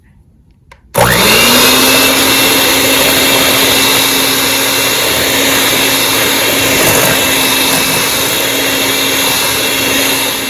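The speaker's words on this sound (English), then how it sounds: "So now I'm getting ready to beat the butter and the sugar." Electric mixer beating butter and sugar, switching on abruptly after a quiet moment into a loud, steady whirring drone with a constant motor hum that runs uninterrupted to the end.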